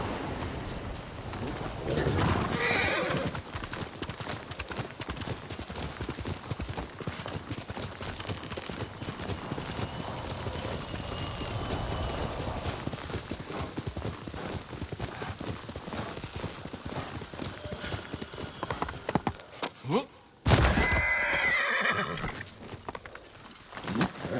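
Horse hooves clip-clop steadily for most of the clip, then a horse whinnies near the end amid a burst of louder sound; faint bird coos in the background. From the video game Ghost of Tsushima.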